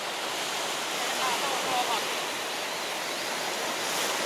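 White water surf breaks against rocks on a coast, with a loud, dense, steady roar of foam and spray.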